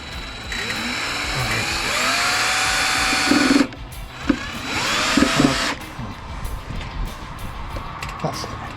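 A power drill drives 3.5 by 30 mm single-thread wood screws into a homemade wooden tortoise table, two loud sustained whirring bursts that stop abruptly, with clunks and handling noise between them.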